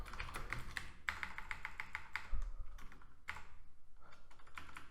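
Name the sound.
typing code on a computer keyboard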